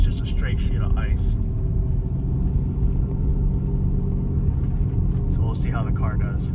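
A car on Continental DWS06+ tires climbs a straight sheet of ice on a snowy Vermont hill, engine and tire rumble droning low and steady beneath short stretches of talk at the start and end.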